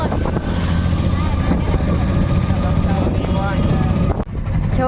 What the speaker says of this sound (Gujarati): બોટ કહેવાય બોટ